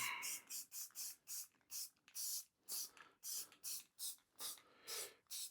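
Rust-Oleum 2X spray paint hisses onto steel targets in a dozen short, even bursts, each about a third of a second, close up and steady, with brief pauses between passes.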